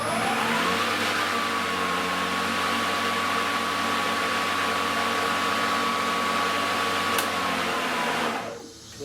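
A GreenWorks MO40L410 40V 20-inch cordless lawn mower's electric motor spins up and holds a steady, loud whirring hum with a constant tonal whine, then winds down abruptly as it stops.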